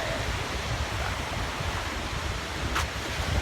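Strong wind roars over big ocean waves on the Leyte coast, a dense, constant rush of surf and gusts buffeting the microphone, with no talking.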